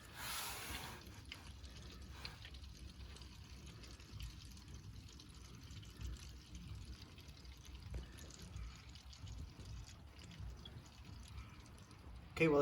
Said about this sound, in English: that oil's draining down below